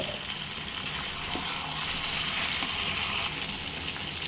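Desi chicken curry with new potatoes fries in a pan while being stirred, producing a loud, continuous sizzle and hiss that swells slightly partway through, heard close up with no speech.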